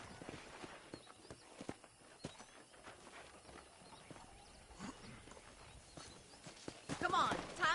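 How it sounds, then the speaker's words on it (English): Horse hooves in a video game clip-clop in a steady walking rhythm, fairly quiet, with a brief louder snort or rustle near the end. "let's see if you can still ride a horse"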